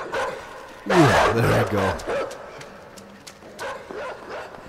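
Dog barking in the side-scrolling video game INSIDE, a burst of loud, close barks and yelps in the middle, followed by fainter scattered sounds while a player talks over it.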